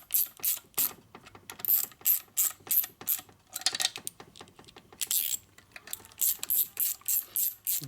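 A socket ratchet torquing the motor bolts on a 1949 Harley-Davidson Panhead 74ci engine during an overhaul, a steady run of short, sharp clicking bursts in an even rhythm, close up with no talking.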